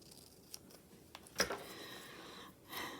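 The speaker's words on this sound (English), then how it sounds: "I'm going to cut them in thirds" Scissors snip through sticker paper to cut it into thirds, giving a few soft, close clicks and one sharper cut amid quiet handling, with no talking.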